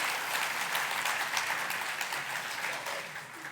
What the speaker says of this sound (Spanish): Sí, denle un aplauso.